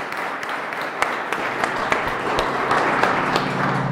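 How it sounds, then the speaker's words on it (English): An audience at a crime and community town hall at The Citadel Mall applauds the panelists, a brief, steady wash of many hands clapping at moderate volume with a few sharper claps standing out. "Let's give a round of applause to our panelists."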